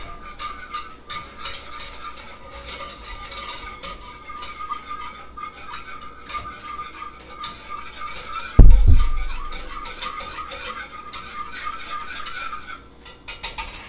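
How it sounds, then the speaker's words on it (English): A whisk scrapes and rattles in a pan of nacho cheese sauce, a steady metallic stirring with light clinks, broken midway by one sharp loud knock against the pan. "And give that a whisk."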